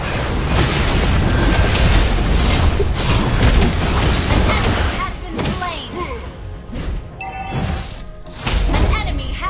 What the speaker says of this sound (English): Boom, pow! Our turret has been destroyed.